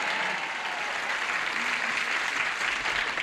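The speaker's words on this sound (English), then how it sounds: "you heard them clapping" Studio audience applauding on a 1975 TV game show, steady dense clapping that holds at full strength throughout, close and filling the room.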